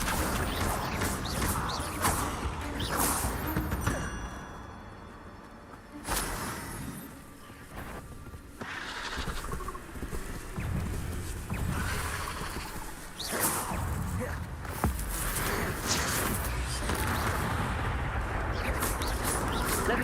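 Spells such as Incendio, Levioso and Accio are cast in Hogwarts Legacy, producing loud bursts, whooshes and blasts over a dense game soundscape, with a voice calling out.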